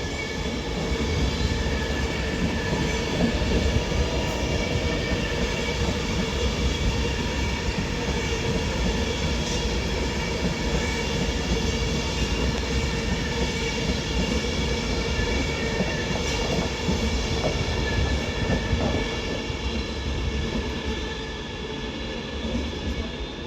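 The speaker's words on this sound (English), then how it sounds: "This 390 Pendolino is off now with the 10:41 Avanti West Coast service to Liverpool Lime Street" A Class 390 Pendolino on the Avanti West Coast service to Liverpool Lime Street departs London Euston with a steady, close rumble of wheels and carriages that rolls on without a break and eases slightly at the end. No one speaks.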